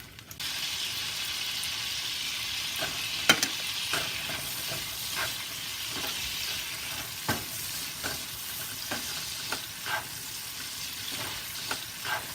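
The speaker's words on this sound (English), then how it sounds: "Add 1 tablespoon of minced garlic and cook for 2 minutes." Minced garlic cooking in butter alongside shrimp in a pan, a soft even sizzle underneath repeated light clicks and scrapes of a utensil stirring, fairly quiet and close with no talking.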